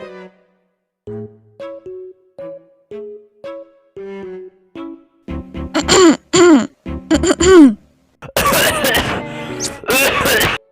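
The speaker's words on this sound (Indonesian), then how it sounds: "Itu batuk" A person clears their throat and coughs several times in harsh bursts, following a string of short vocal sounds.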